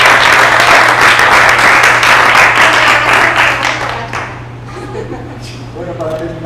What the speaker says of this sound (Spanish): vamos cerrando con otro aplauso.